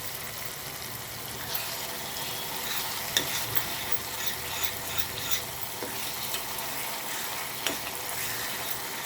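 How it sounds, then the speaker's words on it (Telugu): Telugu red chilli chutney stirred into hot oil in a pan off the heat, giving a steady soft scraping and faint sizzle throughout with small clinks of the spoon, close by and without talk. "స్టవ్ ఆఫ్ చేసుకొని పచ్చడి వేసుకొని కలుపుకోవాలి"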